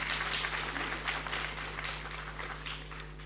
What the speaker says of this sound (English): you might clap.